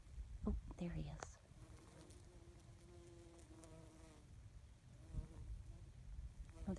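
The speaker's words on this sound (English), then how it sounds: "The bees are usually just swarming over this sage." Bees buzzing around a sage plant outdoors, faint intermittent drones passing close by, with quiet nearby whispering and soft rustles.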